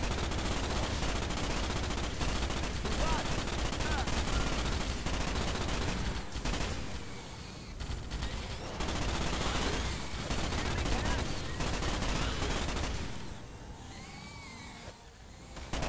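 Rapid automatic gunfire in the PC shooter game Starship Troopers rattles in long, dense bursts with brief pauses, loud and close, blending with other battle sounds and creature screeches toward the end.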